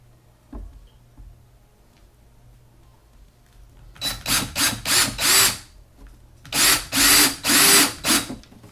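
Power drill boring through PVC pipe for a gecko enclosure, heard as a run of close, loud, short whirring bursts in two groups after a quiet start, stopping and restarting rhythmically.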